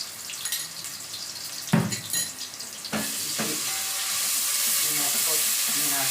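Ginger garlic paste sautés in a pan, first with a few scrapes and stirring clatters, then a steady, rising sizzle fills the close sound.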